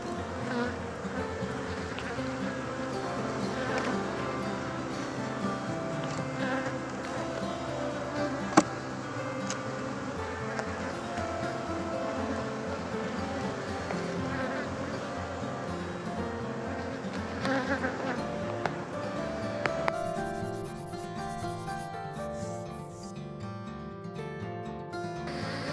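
Honey bees swarm around an open hive, their dense, steady buzzing close and continuous, with faint clicks and ticks from handling the hive.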